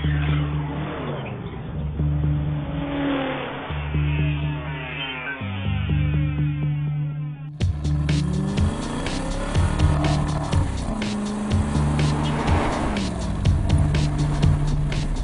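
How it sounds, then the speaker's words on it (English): 2012 Aston Martin V8 Vantage Roadster driven hard, the V8 revving up and down through rising and falling pitches with sharp throttle blips, loud and close, with a brief tire squeal. "Let's drive the 2012 Aston Martin Vantage Roadster"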